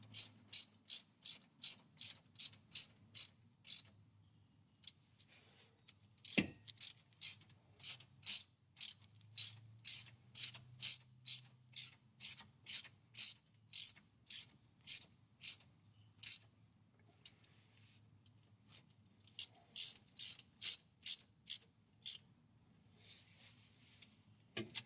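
A hand ratchet snugs up bolts on the differential of a 1959 Corvette, giving long runs of quick, crisp metallic clicks in steady rhythmic bursts, close and clear in a quiet garage.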